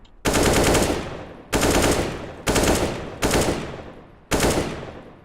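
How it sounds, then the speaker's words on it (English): Five separate short bursts of rifle fire in Counter-Strike: Global Offensive, each a loud rapid cluster of shots that cuts off, with brief pauses between bursts. "how to use burst fire when you're like trying to peek behind a wall"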